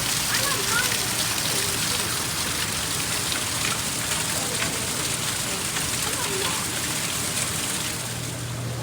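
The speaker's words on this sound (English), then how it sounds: "A little side waterfall here." Continuous splashing rush of a small waterfall at a mini golf course in Myrtle Beach, South Carolina, a steady broadband wash at moderate distance with no breaks.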